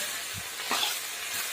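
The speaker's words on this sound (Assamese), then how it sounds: "এনেদৰে বহলাই দিব আৰু 10 মিনিটমান ভাজিব।" Fiddlehead ferns and chickpeas stir-fry in an uncovered pan, a soft steady sizzle with a couple of brief stirring scrapes up close.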